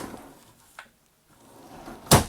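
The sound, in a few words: trailer closet drawers opening or closing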